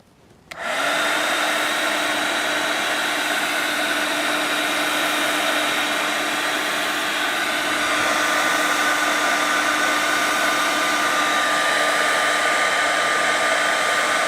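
A heat tool or hair dryer switches on and blows steadily, loud and close, with a constant whining hum while drying blue and red Distress spray stains on a papercraft project.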